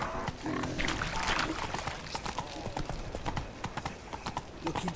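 Horse hooves clip-clop steadily while riding through the Witcher 3 game world, a dense rhythmic patter of hoofbeats over a busy background of ambient game sound.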